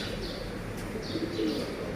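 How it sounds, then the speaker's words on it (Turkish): A rescued pigeon, once found in the trash, cooing softly in a coop: a few low, rounded coos and light chirps over quiet background hiss, fairly faint and close. "Bugün bir sene önce çöpte bulmuş olduğum çakmaklı güvercini tekrar getirdim."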